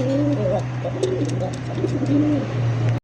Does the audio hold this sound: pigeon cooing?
yes